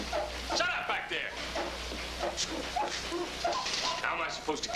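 Dogs bark and whimper in a restless, close jumble of yips and whines, mixed with overlapping voices talking over them.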